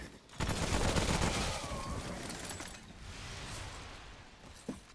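Gunfire in the video game Remnant: From the Ashes, a loud burst of rapid shots at the start that fades into a rumbling, noisy battle din, with one sharper crack near the end.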